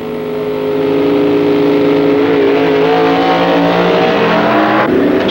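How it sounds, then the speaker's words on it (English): Supercharged gas dragsters from 1964 drag racing roar loudly and continuously, engines straining at full power down the strip with rising and falling tones and no talk over them. "George Montgomery's A-Gas Supercharged versus Dave Strickler's AFX winner"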